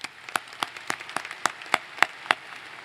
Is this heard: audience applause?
yes